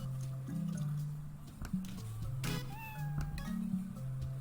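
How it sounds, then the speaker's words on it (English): A stock cat meow stands in for Gary the snail in a SpongeBob video game, one short plaintive meow rising over a looping low game tune with soft ticking in the background. "they use a stock cat sound instead of an actual meow from Gary"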